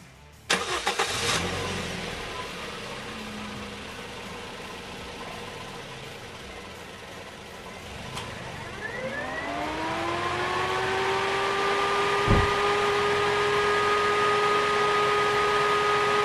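A car engine starts with a sharp crank, then idles steadily up close with the air conditioning and an added electric radiator fan running, the fan whirring up in rising tones partway through, and a brief thump near the end.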